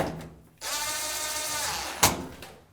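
A power driver runs steadily for about a second and a half, tightening a screw into the front panel of an Electrolux dryer, model EFME527UIW0, then stops with a short sharp click.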